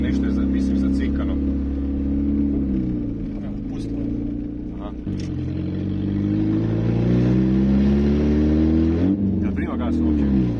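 A used car bought sight unseen, with no exhaust and an engine the owners suspect is faulty, rumbles loudly and steadily while driving, its pitch rising and falling, with people talking inside.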